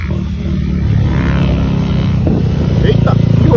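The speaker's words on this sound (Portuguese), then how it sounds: "olha esse escapamento lá dentro da peste" A Honda XRE 300 motorcycle with its exhaust droning and revving nearby under a steady rumble, with voices and rising engine pulses toward the end.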